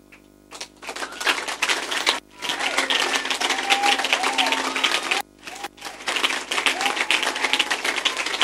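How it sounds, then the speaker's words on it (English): A church congregation claps in dense, loud bursts that break off twice with brief gaps before resuming, a thick rattle of many hands with faint voices mixed in. "Who did you just clap for?"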